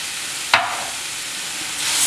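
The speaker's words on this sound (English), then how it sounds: "we'll heat a pan and in that I'm going to add these fresh strawberries" Fresh strawberries and sugar cooking in a heated pan, a steady close sizzle with one sharp clack of a utensil against the pan partway through.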